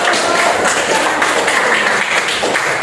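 A classroom of students applauds together, dense and continuous clapping at close range for a few seconds, fairly loud with no talking over it.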